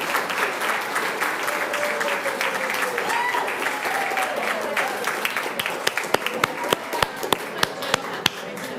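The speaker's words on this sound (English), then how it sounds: "So a round of applause for our science." Audience applause at a quiz competition grand final, a steady wash of clapping that thins toward the end into a few loud, separate claps, with faint voices underneath.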